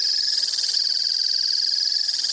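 A true triller animal call, a steady unbroken high-pitched trill with a rolling, pulsing texture, loud and continuous without pauses or any voice.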